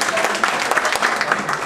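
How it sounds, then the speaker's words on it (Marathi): A seated gathering claps in welcome for a female guest, a dense, steady patter of many hands close by that fills the whole moment, with voices faintly mixed in underneath. "दळवी मॅडमच्या टाळ्यामध्ये स्वागत करा."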